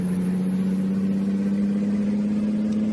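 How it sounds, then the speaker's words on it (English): In American Truck Simulator, a truck's engine holds a steady, droning mid-low hum as the rig slowly gets moving, continuous and even with no talk. "This truck takes forever to get going,"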